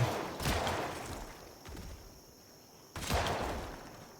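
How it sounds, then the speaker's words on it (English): Two gunshots fired in Project Zomboid, a zombie survival game, sharp broadband cracks about two and a half seconds apart, each trailing off into a quiet outdoor ambience. "Guess we're shooting."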